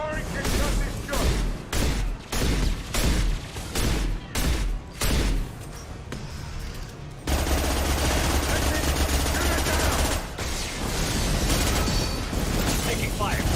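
Rapid bursts of gunfire from the video game Mass Effect 2, rhythmic stuttering volleys at first, then a denser continuous barrage with booms and mechanical clatter, loud and close, with voices speaking amid the shooting.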